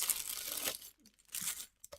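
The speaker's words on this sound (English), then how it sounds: "Oh, plastic bags, Lego." Plastic bags of Lego pieces crinkled and handled up close, a loud sustained rustle that drops away briefly, then returns in a shorter crinkling burst and a final small crackle.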